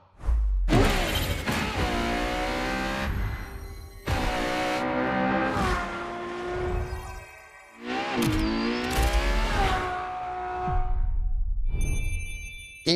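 A Ferrari LaFerrari hybrid supercar in The Crew Motorfest revs loudly through repeated full-throttle bursts, its engine pitch sweeping up and down with brief gear-change gaps and a sharp high whine near the end.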